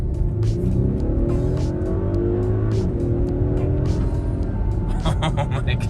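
An Audi B9 SQ5 engine fitted with a 034 Motorsport cold air intake revs up loudly with a deep, throaty intake roar, rising and falling in pitch, close to the microphone with steady background rumble.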